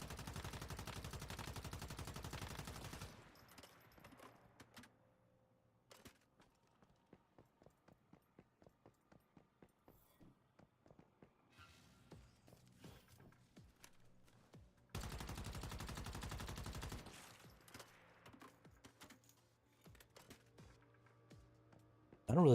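Gunfire in the online survival shooter Once Human: dense roaring bursts open and recur midway, with a string of sharp, separate shots and clatter between them and no talking.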